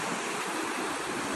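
River water rushes steadily in a broad, continuous wash, close and fairly loud, where buffaloes have been let into a stream to cool off; no voices are heard.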